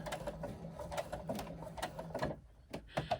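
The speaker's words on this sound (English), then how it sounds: "sew again in the seam allowance, anchoring that zip tape in place" A sewing machine stitching zip tape into the seam of a backpack: quiet, close, rapid mechanical needle chatter in short runs, with a brief pause near the end before stitching resumes.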